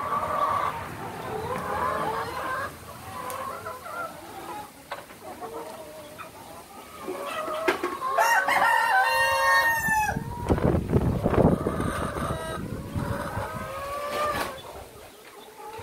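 Laying hens on a poultry farm, clucking and cackling in overlapping bursts, with a rooster crowing loudly partway through and other livestock audible nearby.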